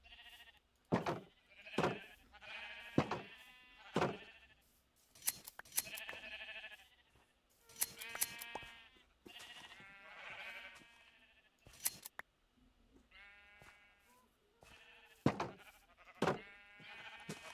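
Several sheep in Minecraft bleat repeatedly, overlapping calls at irregular intervals, close and clear against a quiet background with occasional sharp clicks.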